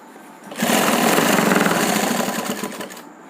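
A sewing machine stitches a kurti seam in one continuous buzzing run of rapid needle strokes, close and loud. It starts abruptly after a short quiet lead-in and stops just before the end.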